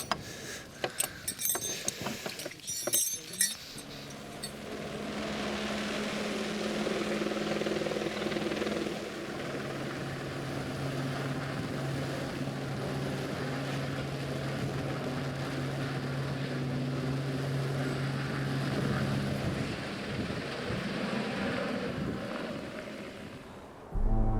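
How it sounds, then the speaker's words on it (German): A helicopter drones steadily nearby at a snowy mountain hut, a continuous whirring roar that holds for most of the stretch after some brief clattering at the start. "Der Heli ist da, was wollen wir noch mehr?"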